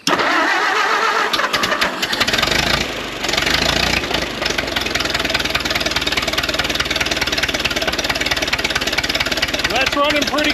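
An abandoned 1929 Doodlebug's engine cranks, sputters and catches, then runs on loud and steady with a rough, uneven beat and occasional backfire pops, while voices speak over it.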